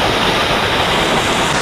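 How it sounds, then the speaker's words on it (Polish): Unnamed waterfall on the Overland Track in Tasmania, a loud, steady rush of falling water heard up close, continuous broadband roar with no pauses or voices. "Pierwszy przystanek przy jakimś wodospadzie bez nazwy."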